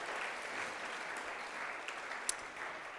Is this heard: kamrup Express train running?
no